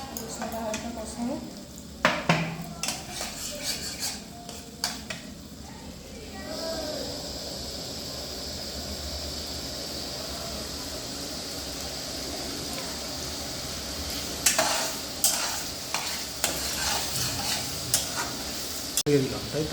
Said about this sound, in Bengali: মশলাটা হালকা কষানো।